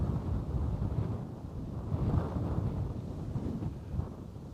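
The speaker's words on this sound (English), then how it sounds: "A little bit blustery crosswind here" Blustery crosswind buffeting a microphone outdoors at Bristol Airport, a continuous low rumbling roar that swells and eases in gusts, with no other sounds standing out.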